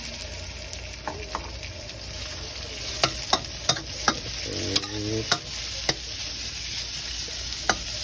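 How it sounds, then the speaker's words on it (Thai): Crispy pork and chilies stir-fried in a wok for spicy pad kaprao, with a constant hiss of frying broken by sharp metallic clacks of the spatula against the wok at an uneven pace. "ผัดคลุกเคล้าให้เข้ากัน"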